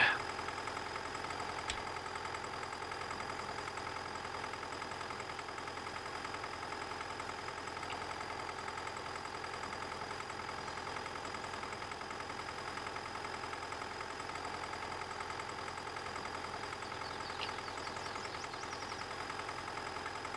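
A tractor engine idles in the Farming Simulator 19 game, a steady, faint, even mechanical hum that holds unchanged throughout.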